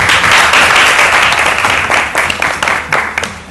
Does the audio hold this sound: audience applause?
yes